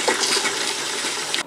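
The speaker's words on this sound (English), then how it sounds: "turn the tap all the way to the hot and do the same thing" Water gushes steadily from a tap turned fully to hot after pressure has built up in a Floe system, a broad continuous rush close by that runs for the whole moment and then cuts off.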